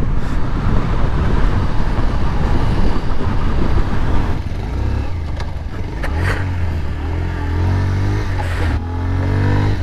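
A motorcycle's engine runs steadily while riding at about 80 km/h on a road, a loud continuous drone with rising whine and rushing wind noise throughout.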